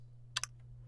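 A percussion sample in FL Studio plays as two quick, close, sharp clicks with a faint echo just after, over a low steady hum.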